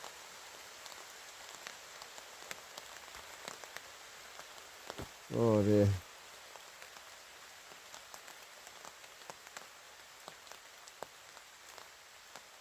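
Heavy rain pattering steadily on a tent during a thunderstorm at a woodland wild camp, a dense continuous hiss throughout, with a brief spoken exclamation partway through.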